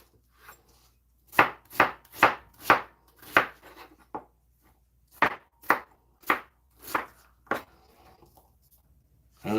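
A knife chops onion into chunky pieces on a cutting board in a home kitchen, with a dozen or so firm, close thuds in two uneven runs separated by a short pause.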